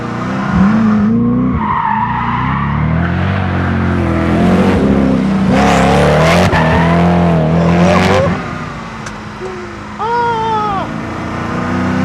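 A Koenigsegg Agera R supercar driven hard around a small track, its engine revving loud and close with repeated tire squeals and skids as it accelerates, the roar dropping briefly near the end before another burst of squealing.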